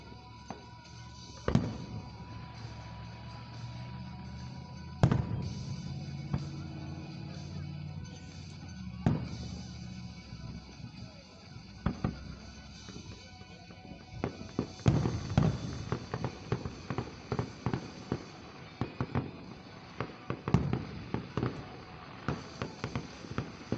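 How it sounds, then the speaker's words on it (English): Fireworks burst at a Fourth of July Independence Day show in Van Wert, Ohio, with a few scattered booms early on, then a rapid, dense volley of sharp cracks and thuds, loud and fairly close with a crowd murmuring underneath. "fireworks are so beautiful"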